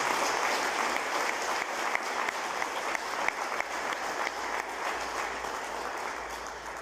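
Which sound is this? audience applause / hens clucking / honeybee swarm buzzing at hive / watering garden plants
audience applause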